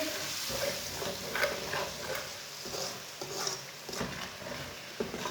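Potato and spinach curry being stirred in a pot over the stove, with repeated scraping strokes and soft sizzling bubbling up close by, and no talking.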